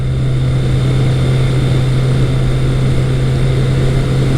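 Steady loud engine drone from a Kawasaki ZL900 Eliminator motorcycle at about 57 mph and 4,000 RPM, with a strong low hum and wind-like noise, held at constant speed while riding.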